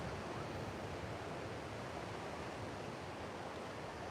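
Ocean surf rolling in on Pacific Beach, a continuous broad wash of waves and wind, steady and fairly faint with no talk over it.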